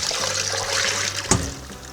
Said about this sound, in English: So we're just going to take this and pour it through the screen one more time.